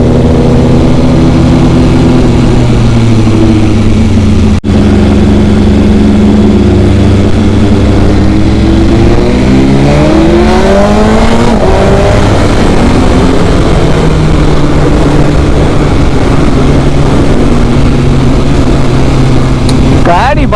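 A BMW S1000RR superbike on a full exhaust with no dB killer, engine rumbling and revving loudly and close with rising and falling pitch sweeps, voices talking over it throughout.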